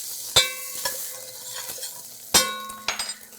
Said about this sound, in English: So now that I got my bacon smoking and going, getting nice and crisp